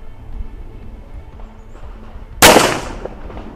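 A single sharp gunshot from a new Colt Gold Cup Trophy pistol rings out loud and close at a shooting range, with a brief decaying echo after the crack against a quiet background.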